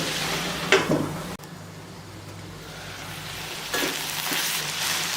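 Tomatoes sizzle and fry steadily in a pan for wheat rawa kichadi, with a brief clatter of stirring near the start and again toward the end.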